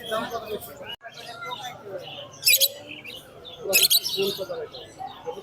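Several small caged birds chirp and tweet nearby in short bursts, with a couple of louder chirping flurries, amid low background murmur of a busy bird market in Mirpur.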